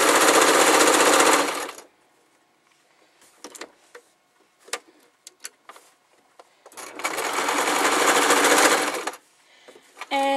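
Sewing machine stitching fluffy fabric for a small pencil pouch, loud whirring bursts at the start and again later, separated by quiet clicks and handling noises as the fabric is turned.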